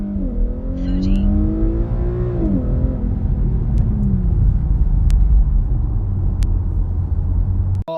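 An Infiniti Q50 in standard mode launches hard with traction control on, wheels spinning at the start, the engine rising loud and close through gear changes with steady road rumble and no talk.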